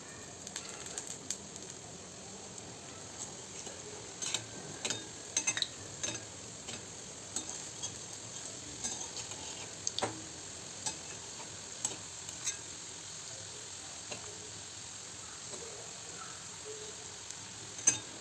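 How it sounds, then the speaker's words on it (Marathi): Modak dumplings fry in hot oil in a kadhai with a soft, continuous bubbling hiss dotted with light, irregular pops and clicks, fairly quiet throughout. "मोदक तळण्यासाठी एका कढईमध्ये तेल घेतलं आहे तेल गरम झालं आहे आता त्यामध्ये मोदक टाकलेत तळण्यासाठी"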